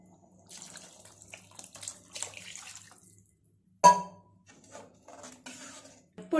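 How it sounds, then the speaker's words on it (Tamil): Water splashes from a small metal vessel into a cooking pot for a South Indian fish curry with tamarind, in short uneven pours and trickles, close up and alone, with a louder splash midway. "ஒரு செம்பு தண்ணி எடுத்து ஊத்திக்கிறேம்மா."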